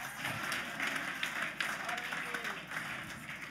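A church congregation claps together in a sustained, fairly faint burst of applause with no voice over it.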